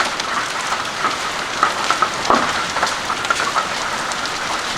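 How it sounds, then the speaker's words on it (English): A severe supercell hail storm sweeps over a rural community, a steady dense patter of hailstones and rain striking surfaces with occasional sharper cracks of larger, marble-sized stones, loud and continuous throughout. "It's the first time in 25 years I've been here seeing hail this size."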